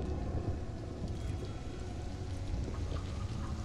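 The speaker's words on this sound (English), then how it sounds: "A little bit of rain." Steady rain in the survival game Stranded: Alien Dawn, falling as a continuous dense patter with low rumbling underneath, even and unbroken throughout.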